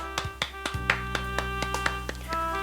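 A congregation at a Friday night worship service gives a short burst of clapping in thanks. Separate sharp claps come at an uneven pace over a steady sustained instrumental tone.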